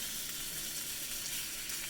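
Shrimp stirred in a hot pan for fried rice make a continuous, even, faint sizzle that stays steady for the whole moment.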